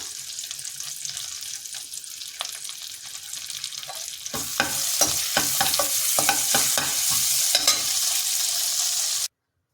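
Ginger paste and a pinch of asafoetida drop into hot oil with cumin for a dal tempering, giving a soft sizzle that jumps louder partway through and carries stirring clinks before cutting off.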